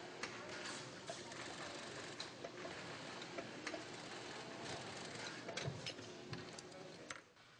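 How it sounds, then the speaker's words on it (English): A heavy-duty sewing machine stitches steadily with a fast mechanical ticking rhythm, fairly faint and continuous, amid a noisy workshop hum in a scuba BCD factory. "using a special heavy-duty sewing machine"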